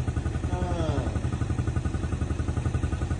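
A new motorcycle's engine idling close by, a steady rapid putter with a rhythmic clatter, while a voice speaks briefly over it.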